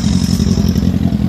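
A motorcycle rumbles loudly and close at a car meet, its engine a steady, rough low drone with some clatter throughout the brief moment.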